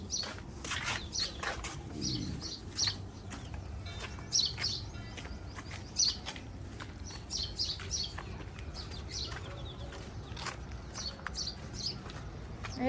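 Sparrows chirp repeatedly in short bright bursts, fairly close, against a low outdoor hum with no talking.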